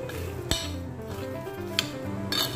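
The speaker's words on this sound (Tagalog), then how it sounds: "Haluin natin siya." Spicy peanuts with garlic stirred in a pan, a steady sizzle under a few sharp metallic scrapes and clinks of the spatula against the pan, close and clear, with soft background music and no talking.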